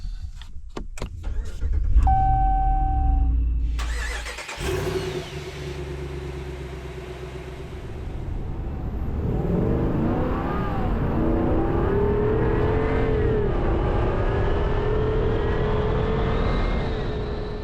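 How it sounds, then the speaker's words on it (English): A 2024 Ram Rebel pickup truck engine cranks and turns over, then idles and revs up as the truck pulls away, the motor droning loudly throughout. "let's go ahead and start this truck up"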